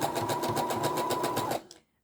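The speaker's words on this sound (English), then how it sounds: "you just sew them straight on top of each other" A sewing machine runs steadily, stitching underwear elastic laid flat with its ends overlapped, its rapid mechanical whir close and continuous for about a second and a half before it stops.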